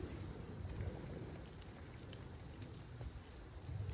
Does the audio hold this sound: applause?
no